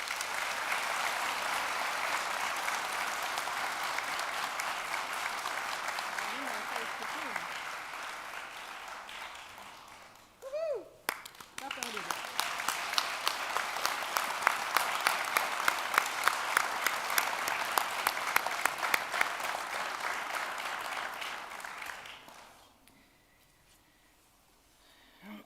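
Long applause from a graduation ceremony audience, dense clapping that dips briefly midway as a few voices cut through, swells again loudly, then fades to near silence.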